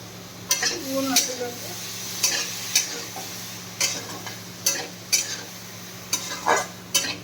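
Vegetables for chowmein fry in a pan, with a low sizzle beneath repeated sharp scrapes and clinks of a spatula stirring at an irregular rhythm. A voice speaks briefly at the start.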